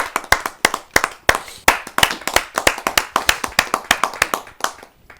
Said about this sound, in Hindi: आइए जोरदार तालियां सुनकर स्वागत करते हैं।